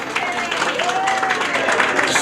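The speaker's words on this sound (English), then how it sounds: "let's give them a round of applause because it was excellent" A crowd at a Greek restaurant's 30th anniversary gives a brief round of applause for the makers of the dolma, steady clapping filling the short moment with no talk over it.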